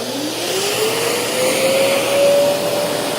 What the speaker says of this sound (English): This is a really high-velocity blow dryer.